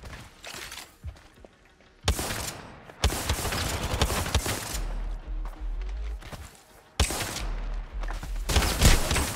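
Video game gunfire in a one-on-one fight, with rapid bursts of shots broken by short pauses, loud and close, and brief voices in between.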